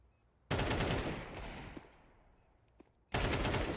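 Loud bursts of automatic gunfire in Counter-Strike at a PGL Bucharest 2025 grand final match, a sustained volley that fades into quieter shots before another heavy burst erupts near the end.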